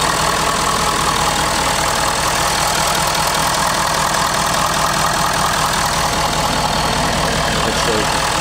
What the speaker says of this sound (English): This is the diesel.